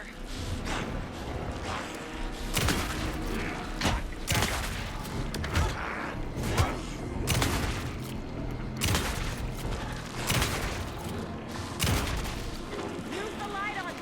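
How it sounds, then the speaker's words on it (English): Gunfire in the video game Alan Wake 2, repeated loud shots and booming blasts in irregular bursts with echoing tails, mixed with game dialogue and voices speaking over the combat. "Anderson, pin him down with gunfire for me to get the light on him."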